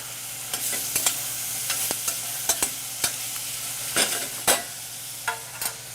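Onions cook in a pot for pork ragu while a large spoon stirs them, an even low sizzle punctuated by sharp, irregular scraping knocks against the pan, close and clear with no talk.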